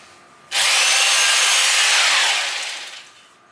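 A drill bit bores steadily into a layered wall, a loud continuous grinding whir that starts abruptly and tapers off near the end, with no talking.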